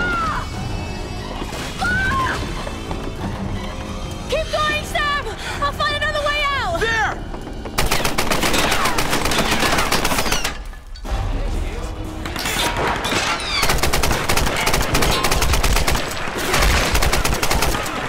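Sustained gunfire erupts in the PS3 Tomb Raider game, dense broadband bursts rattling continuously for about ten seconds after a stretch of game voices and music, loud and close with only brief pauses.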